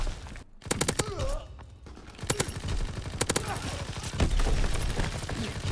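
Rapid bursts of gunfire in Call of Duty WW2 multiplayer, sharp clusters of shots separated by short gaps, with someone talking over the action.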